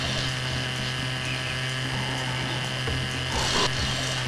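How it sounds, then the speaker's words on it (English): A chainsaw weapon in a video game runs with a steady, loud motor drone throughout, with a brief harsher burst of cutting noise near the end. "let's switch back to the chainsaw."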